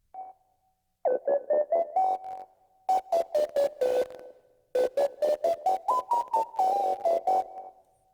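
Lead synth run through distortion in the Kilohearts Snap Heap plugin plays a bright, gritty stepping melody of short staccato notes in several phrases, loud and alone with no voice.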